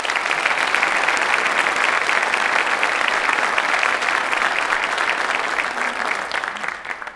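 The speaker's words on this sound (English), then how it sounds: "How about a collective round of applause for all of them?" A large audience applauds at the Greeley, Colorado State of the City address, a dense, loud, sustained wash of clapping that tapers slightly near the end.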